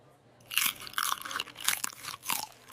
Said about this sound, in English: That crunch woke up my Bangladeshi soul. This nugget tastes like someone deep-fried happiness.